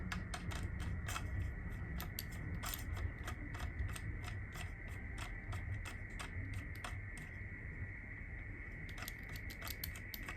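A clamp mount on a bathroom camera mirror system rotating through many turns, giving a steady run of small, close mechanical clicks and ratcheting ticks with a constant low background hum and no talk.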